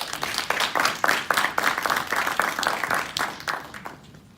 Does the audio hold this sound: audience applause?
yes